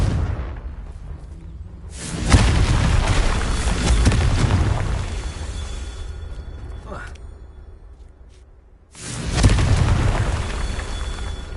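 Confringo explosion spell cast in the video game Hogwarts Legacy: two loud, heavy booming blasts several seconds apart, each with a rumbling, crackling tail that lingers between them.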